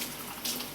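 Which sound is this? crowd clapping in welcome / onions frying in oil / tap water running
tap water running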